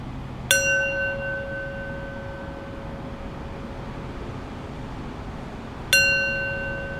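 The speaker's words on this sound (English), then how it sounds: "I'll close practice with 3 rings of the bell" A mindfulness bell is struck twice to close a meditation practice, each a clear ringing strike with a long shimmering decay, the second arriving several seconds after the first in a quiet room.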